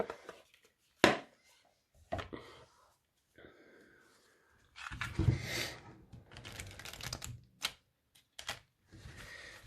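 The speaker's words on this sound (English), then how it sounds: "Kind of hard to shuffle because they're square." Stiff square cards being shuffled by hand: scattered clicks and taps, then a denser burst of riffling, with short pauses between attempts.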